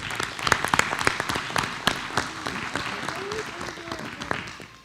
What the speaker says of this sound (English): we'll just give everybody another round of applause